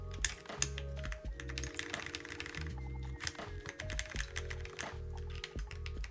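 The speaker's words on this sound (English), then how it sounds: "Now we're gonna do our final sound test for the Neo80 CU." Typing on a Neo80 CU mechanical keyboard, steady runs of close, crisp keystrokes with brighter spacebar thocks, continuous for several seconds with no talking.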